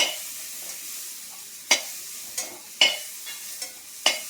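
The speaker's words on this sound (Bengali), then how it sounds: "ফুলকপিটা ভাজা হয়ে গেছে," Cauliflower fries in a pan with a soft, steady sizzle, broken by several sharp scraping strokes of a spatula as it is stirred, close and without talk.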